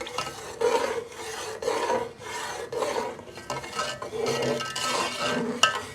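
Semolina roasts in oil in a pan while a spoon stirs it back and forth, giving rhythmic, close scraping rasps about once a second, repeated steadily with no voices.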